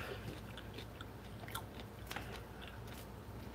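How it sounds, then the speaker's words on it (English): Someone chewing crunchy, crumbly bacon bits up close, with soft irregular crunches and bites, quiet, a few sharper crackles near the middle, no talk. "Sorry if I'm chewing in your ear."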